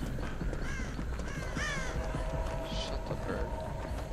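A crow caws repeatedly in the video game Dead by Daylight: harsh, rasping calls rise over steady game ambience, with talk heard intermittently.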